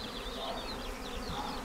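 Honeybees buzz steadily while foraging at an apiary on a warm morning, a continuous close hum with shifting wingbeat tones and no voices.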